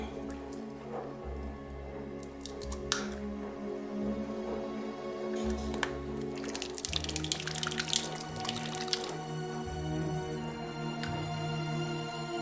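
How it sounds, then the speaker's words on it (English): A paintbrush dipped and swished in water while miniatures are painted, with soft close splashing and trickling over a faint background of music. "So I want to get my brush a little bit wet."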